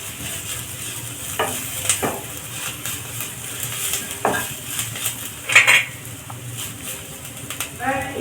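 Coriander powder being stirred and roasted in a pan, with a spoon scraping and clinking against the metal over a low, soft sizzle, the knocks scattered and uneven.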